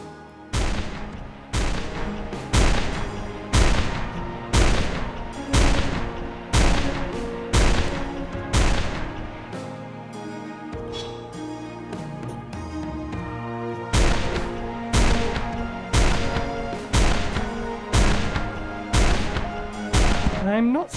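A sniper rifle in Terraria Calamity, loading 50 caliber rounds converted from musket balls, fires a regular string of loud, punchy shots about once a second. A short lull in the middle fills with other game noise, then the steady firing picks up again.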